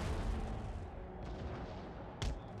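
Artillery rumbles in the strategy game Empire: Total War, a low continuous barrage of distant booms with one sharper, louder blast near the end, and no voices.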